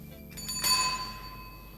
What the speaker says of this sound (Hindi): साइकिल की घंटी दे दीजिए।